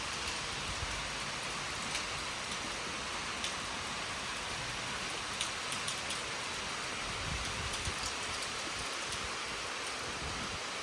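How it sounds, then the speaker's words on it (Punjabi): Steady rain falls outdoors during a stretch of persistent daily rain, a dense even hiss with scattered close drop taps, continuous and moderately loud throughout with no talking. "ਬਾਕੀ ਮੀਂਹ ਪਈ ਜਾਂਦਾ ਰੋਜ਼"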